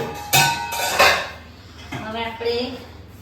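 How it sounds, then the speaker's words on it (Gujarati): A steamer pan is lifted out and handled in a home kitchen, with two loud metallic clanks near the start and then softer clinks and scrapes of cookware. A voice speaks briefly in between. "સ્ટીમરની પેન લઈ લઈશું."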